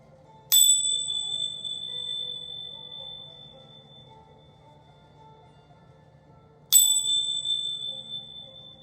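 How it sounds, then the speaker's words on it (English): A bell is struck twice, about six seconds apart. Each strike gives a bright, clear ring that fades slowly, over a faint low hum. "I'm going to ring these bells really quickly. 3 quick times"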